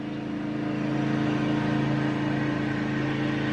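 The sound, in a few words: riding lawnmower engine driving down the street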